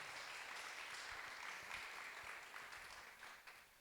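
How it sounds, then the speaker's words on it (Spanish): Church congregation applauding in a worship service, a steady wash of many hands clapping at moderate distance that holds through and fades slightly at the end. "Déselo el aplauso al Señor."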